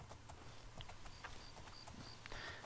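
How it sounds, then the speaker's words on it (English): Horse hooves clip-clop at a steady riding rhythm in the Oblivion video game, soft and moderately close over a low ambient rumble, with no talking. "So, first-person horse riding."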